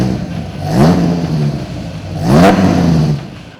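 A 1997 Dodge Viper GTS V10 engine revs twice from idle, each blip swelling to a loud, deep growl and sinking back, the two rises about a second and a half apart.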